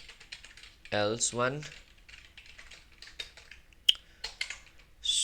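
Java code being typed on a computer keyboard: quick irregular key clicks scattered across the stretch, fairly close and light, with someone briefly speaking over the start of it.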